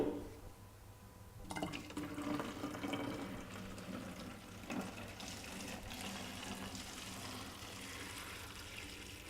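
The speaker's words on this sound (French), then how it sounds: "Ensuite, je remplis d'eau." Water runs steadily from a tap into a bottle, filling a glass of homemade juice mix, with a continuous splashing rush that begins abruptly and stays fairly loud with no talk.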